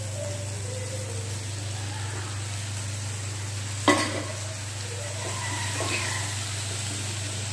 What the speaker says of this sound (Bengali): এবার ভালো করে নাড়াবো।